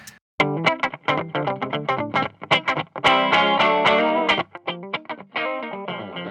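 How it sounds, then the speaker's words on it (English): Distorted electric guitar chords with a gritty, saturated tone, played in choppy rhythmic bursts, loud and upfront without any talking. "I'm also gonna add a little bit of distortion."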